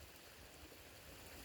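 A babbling brook runs outdoors, a faint, steady wash of flowing water that holds level throughout with no talking.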